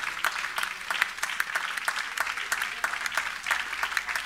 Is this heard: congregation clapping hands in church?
yes